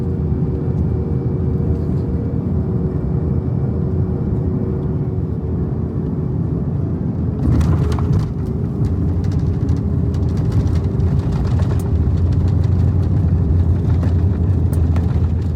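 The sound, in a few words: COMAC C919 airliner landing in Wuhan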